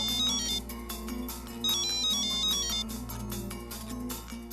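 A mobile phone ringtone plays while a call is placed, a repeating electronic melody with bright tonal notes, steady and moderately loud, with no one talking.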